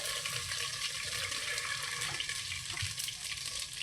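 Curry leaves hitting hot oil while dudhi muthiya is being cooked give a steady, close hiss and crackle that carries on without a break, with no talking over it.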